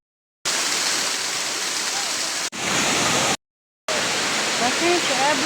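Parkhan Falls in Abra roars as a loud, steady rush of falling water heard up close, cut by two brief silent gaps, with faint voices in the background.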